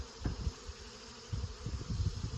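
Honey bees collected for a Varroa mite test buzz close by in uneven bursts, fading briefly before rising again into a busier, denser hum. No speech.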